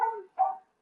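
Cane Corso gives two short, deep barks in quick succession, fairly close and clear, followed by silence.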